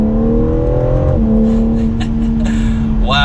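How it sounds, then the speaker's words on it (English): A 2021 BMW M4 Competition in sport exhaust mode drops down to second gear, its loud, close engine drone stepping abruptly in pitch mid-shift, then holding steady before revs climb sharply at the end. "We have the exhaust note in the sport mode setting."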